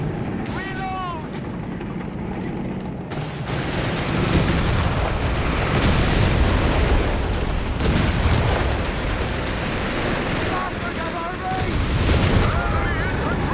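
Artillery shells crash down in Company of Heroes 3, a sustained roar of booms and blasts layered with battlefield noise, broad and loud throughout, with voiced unit callouts over the top.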